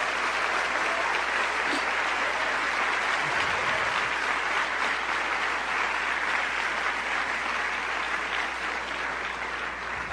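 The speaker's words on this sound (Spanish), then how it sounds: "¿No le dan un aplauso a Dios?" A church congregation applauds for God during a Christmas service, a steady, even wash of clapping that lasts throughout with no break.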